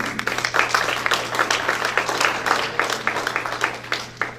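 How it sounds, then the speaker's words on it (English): Audience applause at a Veterans of Foreign Wars post 70th birthday ceremony in Greenville, a steady wash of many hands clapping throughout, fairly close and full, with a low steady hum beneath. "So here you go, Judy Jones, give her a big round of applause."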